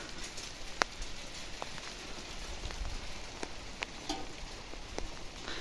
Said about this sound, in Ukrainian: а над нами хмара і шурує град